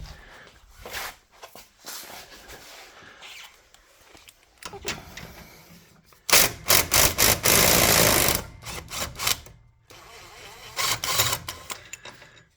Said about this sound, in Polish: Dobra, ściągamy sprzęgło. Do ściągnięcia sprzęgła nasadka 17.